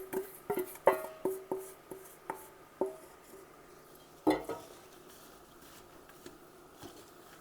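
Roasted nuts are mixed into a fig mixture in a pan, with a series of sharp utensil clinks and scrapes against the pan, spaced irregularly and fading to quiet stirring.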